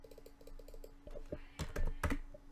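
Close, quick keystrokes on a computer keyboard, light rapid clicks at first, then a few louder, heavier taps, with no voices.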